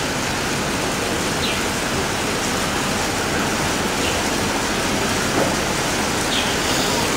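Steady rain falling, a dense even hiss of drops that holds at a constant level throughout, with faint scattered drips standing out now and then and no voices.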